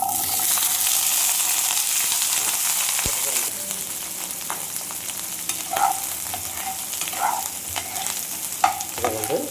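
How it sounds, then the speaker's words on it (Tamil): Onions frying and being stirred in a pan for Madurai mutton chukka, a continuous close sizzle with spatula scrapes and clinks scattered through. "ஒரு நல்ல வெங்காயமெல்லாம் நல்லா கலர் சேஞ்ச் ஆகிற வரைக்கும் நல்லா வதக்கிக்கலாம்."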